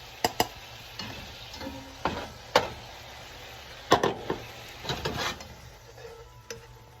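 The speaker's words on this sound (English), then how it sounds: "I'm gonna scoop these mushrooms out" Mushrooms are scooped from a pan, leaving their juice behind, with scattered scraping and clinking of a spoon against the pan over a faint sizzle. The sharp knocks come in irregular bursts, close and moderately loud, and nobody speaks.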